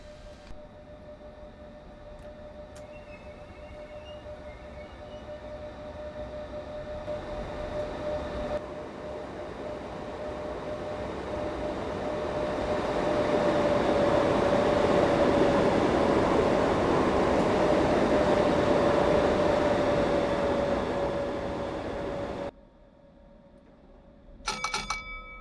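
A suburban London train in Train Simulator 2015 departs Wandsworth Road, producing a steady, droning engine hum with a sustained tone. It swells louder midway, then drops off abruptly near the end, followed by a brief clatter.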